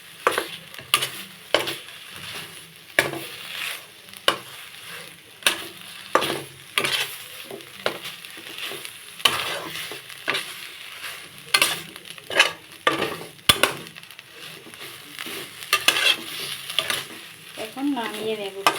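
Bottle gourd leaf paste fries dry in a wok, stirred with a repeated rhythmic scraping of the spatula every second or so over a constant soft sizzle, close and fairly loud.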